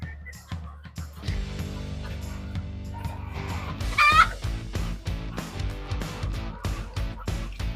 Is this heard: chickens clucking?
yes